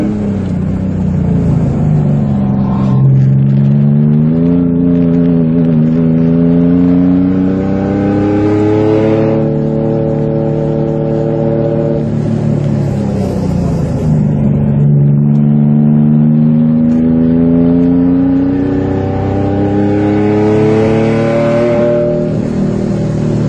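A car laps the ICAR Mirabel race circuit with its engine droning loudly and continuously, pitch climbing through the gears and falling back in repeated rising sweeps.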